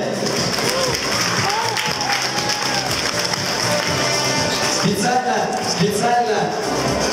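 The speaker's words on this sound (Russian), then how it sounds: "бурные аплодисменты, бурные аплодисменты" Loud, sustained applause from a crowd at a Sochi city day premiere event, a dense continuous wash of clapping layered under people talking and some music in the background.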